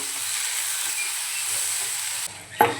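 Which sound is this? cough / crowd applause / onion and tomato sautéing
onion and tomato sautéing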